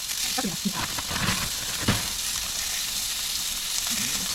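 Onions for onion soup sizzle and hiss quietly in a pan as they slowly cook down, a steady, soft frying sound with a few faint clatters early on.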